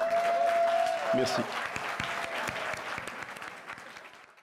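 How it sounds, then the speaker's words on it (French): Audience applause at a gala, a loud sustained wave of clapping that gradually fades over several seconds, with a voice speaking over it. "j'aimerais que vous donniez une bonne main d'applaudissement"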